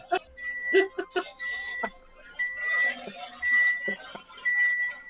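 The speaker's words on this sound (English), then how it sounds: "that's the truck backing up" Repeated high electronic beeps in short bursts, like a vehicle reversing alarm, heard at a distance with people talking over them.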